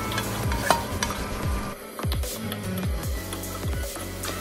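Shrimp with pepper and ginger stir-fried in a pan, with a continuous sizzle and repeated sweeping stir strokes scraping the pan, close and fairly loud, with no speech.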